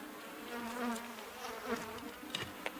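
Honey bees buzz around an opened hive during an inspection, a soft steady drone with a few louder passes of individual bees close by.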